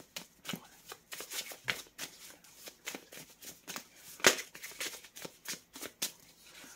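Tarot cards are shuffled and laid out at close range, giving a quick run of crisp riffling swishes and soft slaps on a surface in an uneven rhythm, with one sharper snap near the end.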